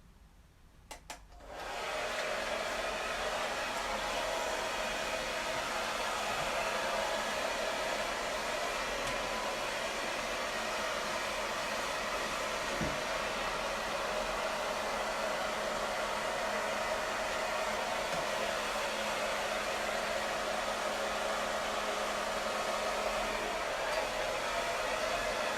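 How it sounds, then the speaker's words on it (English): A hairdryer on a gentle setting blows steadily over a wet dog's coat, a close, continuous whooshing hum that switches on after a brief quiet start. "Then apply the hairdryer again."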